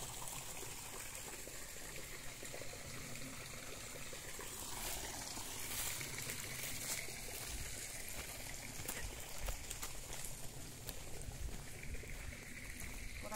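Water runs steadily out of a silted old mill channel outdoors, a continuous trickling, gushing flow at moderate level with no voices heard.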